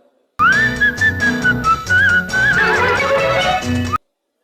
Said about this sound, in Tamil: ஆரம்பத்துல இந்த விசில் சவுண்ட் நல்லா இருக்கும்.